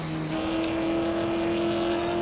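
Engine of a vintage Lotus Type 25 Formula 1 car in Assetto Corsa, a steady, droning tone that shifts up once early and then holds at a constant pitch, close and sustained with no talk over it.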